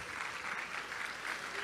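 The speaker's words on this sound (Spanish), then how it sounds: "Denle un aplauso al Señor" A church congregation claps during a Spanish-language worship service, a short burst of moderate applause heard at some distance, with a voice speaking faintly underneath.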